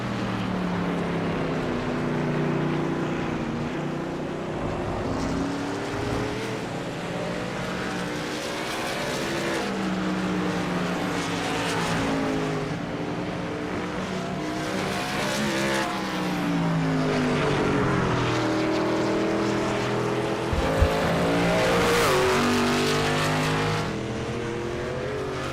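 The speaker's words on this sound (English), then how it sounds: "get us some road race action going on" Race cars roar around a road race course in a VSpeed Contender Series event, with engines droning continuously and rising and falling as they pass, moderately loud and without talk.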